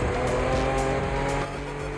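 A Mitsubishi 3000 GT races in the video game The Crew Motorfest, its engine droning loudly with sustained squealing tires and tonal whine throughout, no talk over it.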